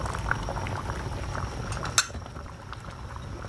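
A stew pot with potatoes just added bubbles at a steady boil, a dense close burbling of liquid with one sharp clink of a utensil against the pot partway through.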